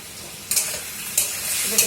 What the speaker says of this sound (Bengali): একটু কষিয়ে নেব, এই 2 মিনিট কষিয়ে নেব। ফ্লেমটা কিন্তু মানে বাড়ানোই রয়েছে, হাই ফ্লেমেই রয়েছে।